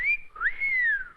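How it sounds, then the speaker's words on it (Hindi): A man's clear two-part whistle, directed at a policewoman in the Hindi action film Shera, rising then sliding into a long, steady, slightly falling tone, loud and close with no talking. "पुलिस वाली को देखकर सीटी बजाते हो?"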